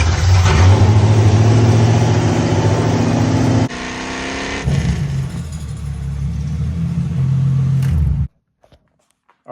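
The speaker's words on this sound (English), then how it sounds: "American tractor engine right here." A loud American tractor engine runs steadily up close with a deep mid-range drone, shifts tone partway through, then cuts off abruptly near the end, leaving silence.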